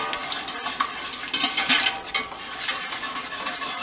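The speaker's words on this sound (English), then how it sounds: "Whisk that up." Whisking a flour and vinegar paste for cucumber relish, a close, steady run of quick scraping and tapping strokes against a bowl, fairly loud and without speech.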